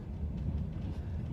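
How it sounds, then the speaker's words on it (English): Steady low rumble of a passenger train running on the line from Novosibirsk to Irkutsk, heard from inside the carriage as a continuous, even drone with no voices. "I'm riding the train from Novosibirsk to Irkutsk."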